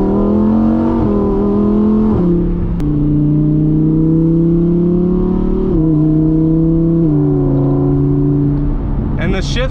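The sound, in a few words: naturally aspirated V10 car engine revving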